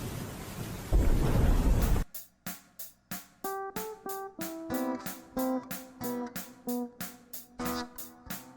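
A thunder sound effect for a lightning bolt rumbles loudly for about two seconds, then cuts off abruptly into a run of evenly spaced plucked musical notes.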